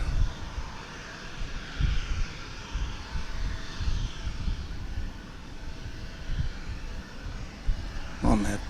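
An airplane at DFW Airport rumbles steadily in the distance as a low, sustained engine roar, with a faint voice speaking at times.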